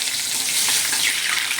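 A bay leaf dropped into hot oil with mutton and green chillies sizzles loudly and steadily, a dense close hiss filling the moment.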